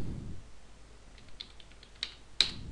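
Computer keyboard keys tapped lightly in a short quick run, then a louder, sharper press like the enter key at the end, close and alone against a quiet background.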